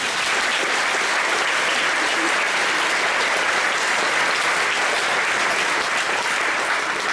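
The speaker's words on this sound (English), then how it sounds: "but if we clap loud enough," Dense, loud applause from a school audience at an awards day, sustained steady clapping from many hands with no talk over it.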